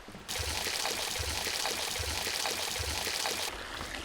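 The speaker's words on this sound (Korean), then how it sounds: "개울물의 모래를 대야에 퍼서 이리저리 열심히 흔들면 모래보다 무거운 사금은 대야의 밑바닥에 남게 된다." Stream water in Lapland where gold is panned from the sand, a close, continuous pouring and splashing flow, loud and steady throughout.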